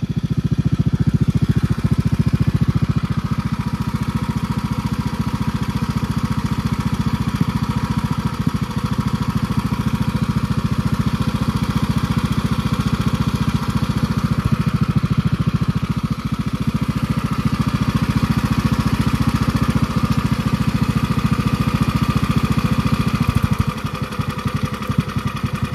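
A Predator 459 engine powers a go-kart through a 780 series torque converter, running steady and loud with a constant low drone and no talk.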